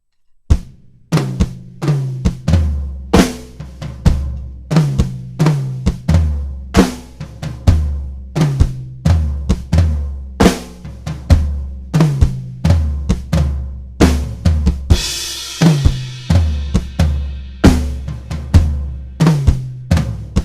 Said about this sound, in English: Usually for CCM, we only utilize 1 tom, but you can just repeat on your rack tom.